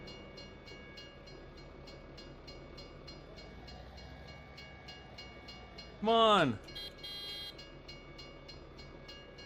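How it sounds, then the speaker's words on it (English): A train in Farming Simulator 17 passes with a steady rumbling, clicking roll of cars, then a loud, brief blast of its horn; a voice speaks briefly over the game sound. "There goes our train."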